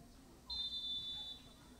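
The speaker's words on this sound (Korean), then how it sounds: "휘슬은 울렸고요." A referee's whistle sounds once before a penalty kick in a shootout between school soccer sides, a faint thin tone lasting about a second over low crowd and field ambience.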